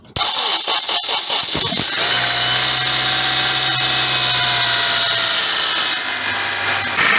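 A Honda Accord 2.4 VVT four-cylinder with an oil leak at the VTEC spool valve cranks with a few rapid starter whirs, then catches and settles into a loud, steady idle with a high whining tone, close by and without talk.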